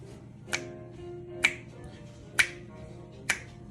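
Four crisp finger snaps land evenly about a second apart, marking beats two and four in a kitchen, close and clear over a quiet background.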